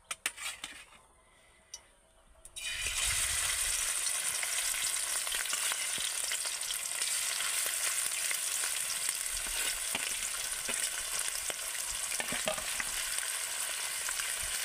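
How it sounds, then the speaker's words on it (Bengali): Prawns dropped into hot oil for a jackfruit and prawn curry: after a brief quiet start with a few knocks, a loud, steady, close sizzle and crackle of frying takes over and holds without a break. "তেল গরম হয়ে গেছে, এবার আমি একে একে সব কিছু ভেজে নেব। প্রথমেই আমি ভেজে নেব চিংড়ি।"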